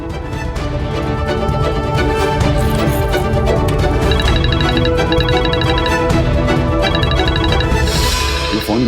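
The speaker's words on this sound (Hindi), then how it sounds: "ये फोन किसका बज रहा है?" A telephone rings with a repeating electronic ringtone, fairly loud and clear over a busy background, with no one speaking over it.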